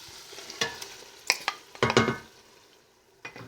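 Whole tomatoes dropping into a pan of sizzling translucent onions with pepper flakes and oregano for ratatouille, heard as a few sharp clattering thumps and bursts of frying crackle, close and moderately loud, with no talking.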